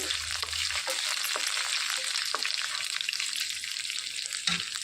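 Cumin seeds and curry leaves frying in hot oil for carrot pachadi, a dense close crackling sizzle with scattered sharp pops and a brief low clank near the start, no voices.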